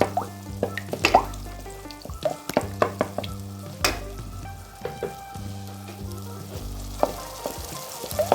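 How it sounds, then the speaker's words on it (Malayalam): Steady sizzling of two eggs frying in a hot pan with bread for bread egg masala, with intermittent scraping and tapping of a utensil against the pan. "2 കോഴിമുട്ട പൊട്ടിച്ചിടാം. ഇനി ഇതൊന്ന് നമുക്കൊന്ന് പൊരിച്ചെടുക്കാം"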